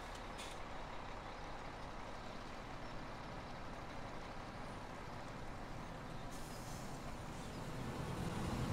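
A truck drives in the Farming Simulator 17 video game, giving a faint, steady low engine drone with a rumbling texture that swells slightly toward the end, without any talking.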